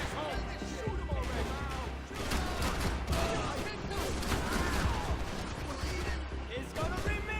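Dense, near-continuous gunfire in the Max Payne 3 shooter game, with rapid overlapping bursts and impacts, and voices shouting over the shooting.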